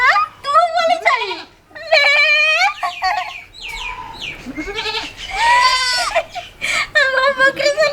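A person imitating a goat bleating in a Maithili comedy sketch, with wavering, quavering cries repeated continuously across the whole stretch and no pause between them.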